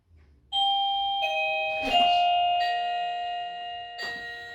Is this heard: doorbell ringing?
yes